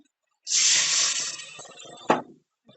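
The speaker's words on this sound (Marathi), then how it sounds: "एक वाटी पाणी टाकत आहे मी" Water pours in a brief splashing stream, fading as it settles, followed by a sharp clink near the end.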